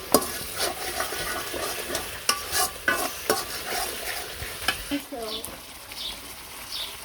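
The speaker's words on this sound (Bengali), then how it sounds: "মশলাটা ভালো করে কষানো নিলেই খাইতে ছাড় লাগবে" Spice paste for prawn malai curry being sautéed and stirred in a pan, with a steady sizzle broken by repeated scraping strokes and light clinks, close by with no talking.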